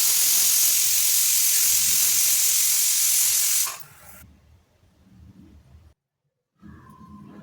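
A pressure cooker of mutton curry blasts out a loud, sustained whistle hiss of escaping steam for several seconds, then cuts off, leaving faint kitchen sounds.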